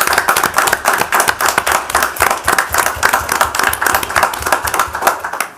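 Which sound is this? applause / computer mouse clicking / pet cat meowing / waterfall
applause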